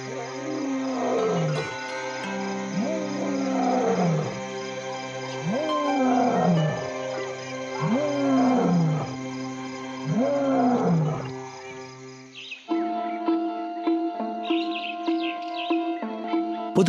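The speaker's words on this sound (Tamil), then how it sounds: "அதோட கர்ஜனை இரவு முழுக்கவும் சராசரி இடைவேளைகள்ல கேக்குது" A lion roars in the wild at night, a series of deep grunting roars in a rhythmic sequence, loud and close, followed by a musical passage.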